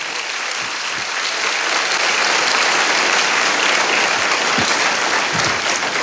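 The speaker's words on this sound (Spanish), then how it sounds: "Dele un fuerte aplauso al Señor por eso." Loud, sustained applause from a church congregation, dense clapping that swells and holds steady, with a few sharper claps standing out.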